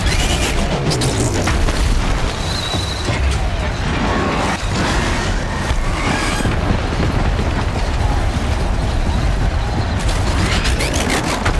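A stone pillar collapsing in Horizon Zero Dawn, a loud sustained rumbling crash with heavy low-end booms and debris clatter that stays dense throughout, with a faint voice underneath.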